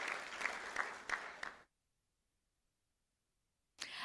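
Applause for students at a school board meeting: a short burst of clapping from a modest audience that stops abruptly, followed by more than two seconds of silence and then another brief burst of claps.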